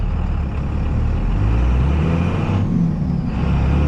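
A 2nd Gen Cummins diesel truck pulls through its gears, a loud, close, low engine roar with a short dip in pitch around a shift.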